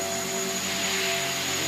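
A helicopter flies small circles overhead and picks up speed, giving a loud, continuous engine and rotor roar with steady tonal hums and no pauses.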